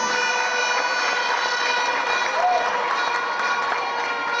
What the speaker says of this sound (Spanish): Barranca Bermeja le agradece con un fuerte aplauso.